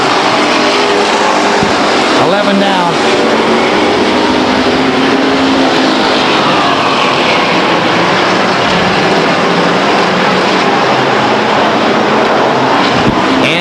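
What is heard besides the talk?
race cars running laps at Stockton 99 Speedway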